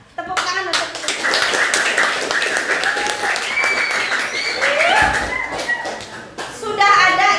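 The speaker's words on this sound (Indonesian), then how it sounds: "tepuk tangan untuk kita." Children in a school classroom clap in rhythmic patterned bursts, sharp and close, with voices chanting and talking throughout and a busier flurry of claps near the end.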